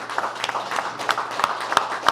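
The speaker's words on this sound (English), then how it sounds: "So let's give a round of applause to our county team, everyone." Audience applause at a county press conference for the Ray Wemple Memorial Ice Rink in Schenectady, a modest group clapping in an uneven patter, several individual claps standing out sharply.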